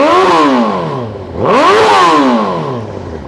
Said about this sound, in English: I'll give her a quick rev just for you guys to have a hear